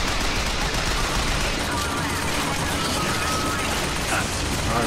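Turret gunfire in BioShock Infinite, a dense, continuous rattle of rapid shots that fills the whole stretch at steady loudness, with no pauses.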